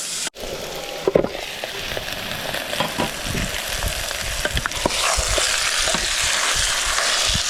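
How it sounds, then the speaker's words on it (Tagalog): Ingredients being sautéed in a pan at a winter cave picnic: a steady, close sizzle runs throughout, growing a little louder near the end, broken by sharp clacks of a utensil stirring against the pan. "Gigisa na tayo ng ating mga sangkap."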